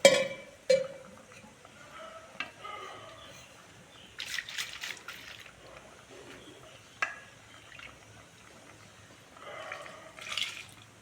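Rinse water trickles and splashes in short bursts, a few separate pours into a pot of field bean gravy with quiet gaps and clinks between them.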